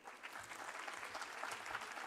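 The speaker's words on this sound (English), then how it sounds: "A big round of applause, everyone." Audience at an international symposium on law and peace applauds after an address, an even, continuous patter of clapping heard faintly from a distance.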